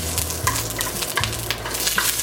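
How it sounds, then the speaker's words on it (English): A shallot fries in a little oil with a soft crackling sizzle and a few stirring scrapes, brief and close. "Cook the shallot just a little bit"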